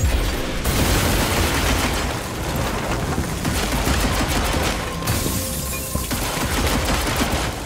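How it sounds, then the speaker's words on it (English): Gunfire in the video game Evil West, a dense, continuous barrage of shots and booms that stays loud throughout, with a brief dip near the middle before the firing resumes. "What the hell's shooting, bro?"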